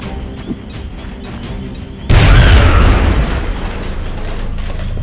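A grenade explodes in the XCOM: Enemy Within video game. A single loud, sudden boom hits about two seconds in and leaves a rumbling, crackling tail of debris over a low, steady game ambience.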